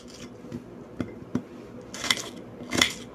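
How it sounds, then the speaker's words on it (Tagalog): A knife slices an onion without a chopping board, giving a few faint, irregular cuts and scrapes with soft knocks of utensils against a dish, close but quiet. "Ito yung ating sibuyas. I-slice po natin."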